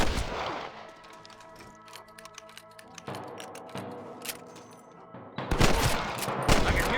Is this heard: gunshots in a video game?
yes